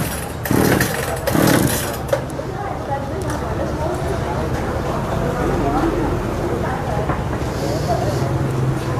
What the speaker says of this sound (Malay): Cuba untuk menghidupkan gergaji